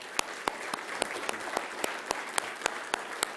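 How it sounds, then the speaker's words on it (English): Light, scattered clapping from a small group, with sharp individual claps standing out at an uneven rhythm. "A round of applause."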